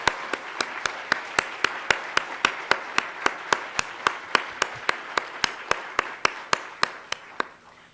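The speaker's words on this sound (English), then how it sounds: "Let's give Esther a round of applause" Steady, evenly paced claps, close and crisp, one after another at a regular beat as a small group applauds a speaker at a faculty gathering, tapering off at the end.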